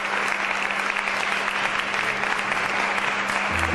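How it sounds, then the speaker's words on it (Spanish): Steady, dense applause from an audience for actors at a diversity-themed comedy and music show at a cultural center in Quilmes, sustained and fairly loud throughout with no break. "¡Fuerte el aplauso para estos actores de la diversidad!"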